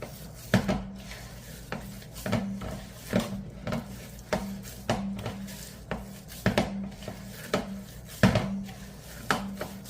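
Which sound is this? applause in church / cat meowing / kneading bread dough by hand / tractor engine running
kneading bread dough by hand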